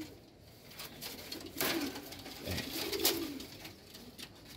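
A pigeon coos softly in a few short rising and falling phrases, close by in a quiet room with faint background noise.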